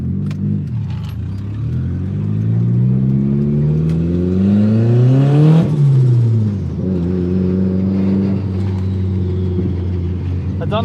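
A Mitsubishi Evo with a turbo dump pipe, heard from inside while driving: engine drone rising through a gear as it accelerates, dropping at a shift, then climbing again, loud and steady with a turbo whir.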